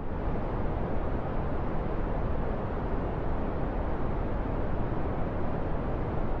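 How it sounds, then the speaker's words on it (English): Green noise, a steady rushing hiss that sits between white and brown noise in tone, filling the whole stretch evenly and alone. "And green noise is somewhere between white and brown noise."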